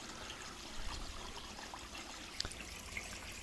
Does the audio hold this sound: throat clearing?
no